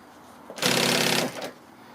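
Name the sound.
sewing machine stitching piping around a corner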